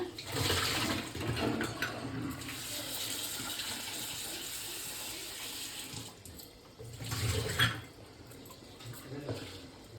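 Water pours steadily into a cooking pot for boiling sweet potatoes, a continuous gushing splash that swells and eases over about ten seconds, close and fairly loud with no talk over it.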